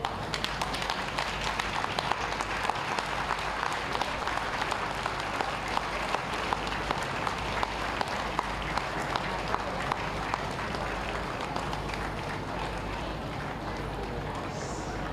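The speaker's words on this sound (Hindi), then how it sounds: "तालियों से उनका अभिनंदन, आभार व्यक्त करें" Many people at a health ATM centre opening event in Gorakhpur clap together in a sustained, fairly faint round of applause with a steady low hum beneath, and the clapping trails off toward the end.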